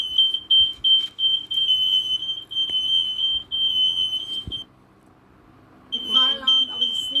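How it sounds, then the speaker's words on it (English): A carbon monoxide alarm in a council residence sounds a shrill, continuous high beeping in near-steady pulses. It cuts out for about a second, then resumes, and a voice speaks over the tone at the end. "The alarm went off again while I was asleep."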